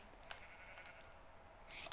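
A sheep bleats a few times in Minecraft, soft and somewhat distant, alongside light clicking in the background.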